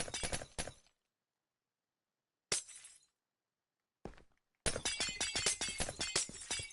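Glass blocks being broken in Minecraft, heard as bursts of crisp shattering in quick clusters: one at the start, two brief ones in the middle, then a dense run of repeated breaks to the end, with silent gaps between.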